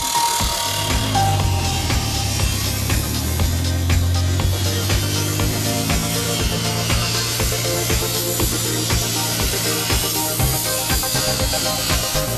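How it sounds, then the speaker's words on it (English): Diamond-tipped grinder cutting through Concorde G-BBDG's wing skins, spars and ribs: a steady, loud, rasping grind with repeated scraping strokes and metallic rubbing that runs throughout, with no voices. "A diamond-tipped grinder was used to remove the wing from the aircraft, as it would cut through both the wing skins and supporting spar and rib structure."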